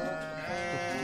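A sheep bleats in a sustained, wavering cry, close and fairly loud, lasting about a second with no talking.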